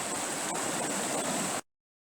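Water of the Fay stream, a small brook near Laroche by an old mill intake, rushes in a steady broadband wash, close and moderately loud, then cuts off abruptly.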